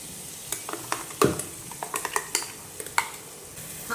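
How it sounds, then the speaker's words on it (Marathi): Ground green masala sizzles gently in oil for a quick chicken rassa, with a rapid run of close spoon clicks and scrapes against the pan over a soft frying hiss. "हा पण मसाला चांगला तेलावर परतून घेऊया."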